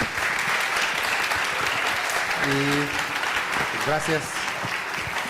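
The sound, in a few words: audience applause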